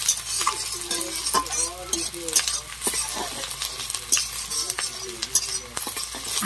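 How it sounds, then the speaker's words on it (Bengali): Chopped onions fry in a pan, frying until lightly browned, with a constant close sizzle under repeated stirring and scraping strokes, while someone talks over it. "হালকে বাদামি বাদামি করে লালচে লালচে করে ভেজে নেবো।"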